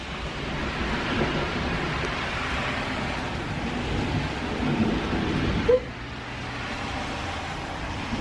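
A long, low rumble of thunder rolls steadily under heavy rain, with a brief sharp crack near the end.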